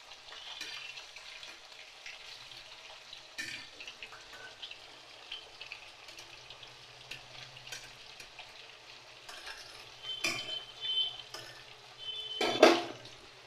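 Eggplant pieces and hilsa fish fry together in a pan with a steady, quiet sizzle. A few sharper clinks of a utensil against the pan come toward the end. No one speaks.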